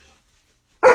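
A dog gives a single loud, close bark at the end of a second of near silence.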